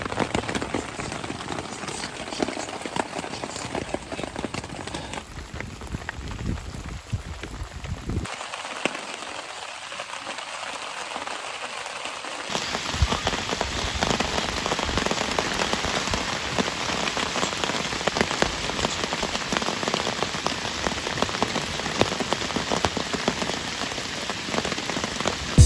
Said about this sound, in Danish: det regner